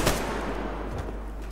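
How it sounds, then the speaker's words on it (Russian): Gunfire rattles through a Survarium online shooter match as a dense, continuous burst of shots, loud and close, with no voices over it. "Стрельбу кто слышал еще, нет?"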